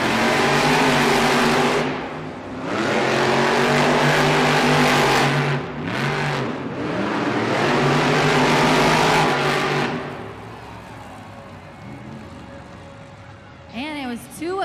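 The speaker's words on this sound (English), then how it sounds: "Our drivers will go ahead and fire their engines and get staged there at the starting line." Monster Jam monster truck engines rev loudly at the starting line of an arena event, roaring and surging in waves before easing off, with an announcer talking and crowd noise underneath.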